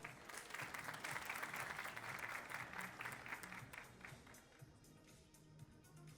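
An audience at an award ceremony claps steadily, dense applause swelling early and slowly thinning toward the end, heard at a moderate distance.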